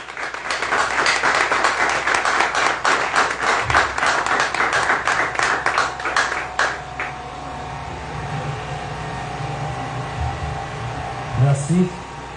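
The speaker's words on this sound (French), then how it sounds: "je vous demande de l'applaudir" An audience at an eloquence contest applauds a speaker, a loud burst of many hands clapping with rhythmic beats that fades after about seven seconds into room noise and a voice speaking.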